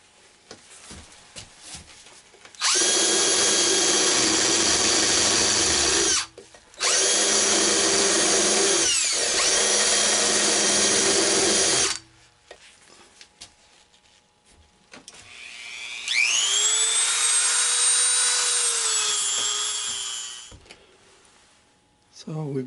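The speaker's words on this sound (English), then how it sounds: "A little bit of polishing action going on inside there." A power tool polishes inside a fabricated carburetor intake for a Briggs & Stratton twin, running in two long, loud, steady bursts and then a third higher-pitched run whose whine rises, with quiet gaps between.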